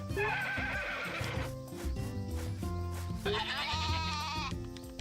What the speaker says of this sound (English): Our sheep, so loud.